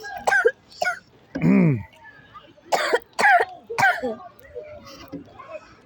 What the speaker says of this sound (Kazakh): Қазір кішкене жөтеліп отыр